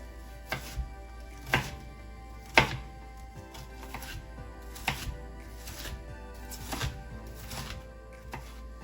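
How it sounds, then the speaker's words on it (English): Knife chopping an onion into quarter-inch pieces on a cutting board, a steady series of crisp, close thunks spaced about a second apart, no talk. "Now that we've roughly chopped our onion into 1/4-inch size pieces"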